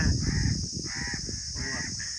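Several crows caw in harsh, drawn-out calls outdoors, with a low rumble of background noise and a steady high hiss.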